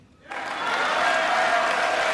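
A crowd in a chamber applauds during a presidential speech. Clapping swells in abruptly after a brief quiet moment, then holds as a thick, sustained roar of many hands, fairly loud and close.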